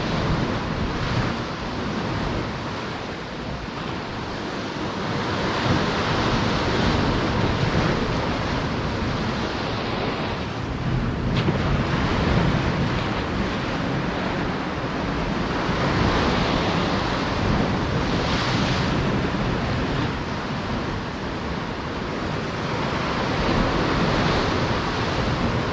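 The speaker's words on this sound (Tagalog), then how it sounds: "Magalaw na tubig." Rough, choppy sea water surges and washes continuously at a fishing spot, making a dense roar with wind buffeting the microphone and no talking.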